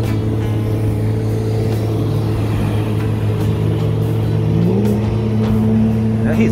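A steady motorboat engine drone rumbles nearby on a canal with shifting tonal pitches, as the boat passes and rises slightly in pitch toward the end.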